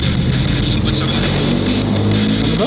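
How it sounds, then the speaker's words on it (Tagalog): Road traffic rumbling steadily in the background with a constant wash of passing vehicle noise, partly under people talking nearby. "May mga naririnig po tayo traffic."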